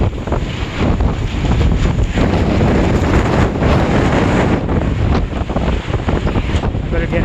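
High winds buffet the microphone around a tiny house in a snowstorm, a loud, constant roaring rumble with gusty surges and no speech.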